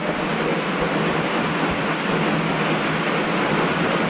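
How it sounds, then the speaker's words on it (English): Rain falls steadily outside a farm barn where chickens and goats are kept, a dense, even hiss that stays loud and unbroken from start to finish with no talking. "That rain's relaxing to you too?"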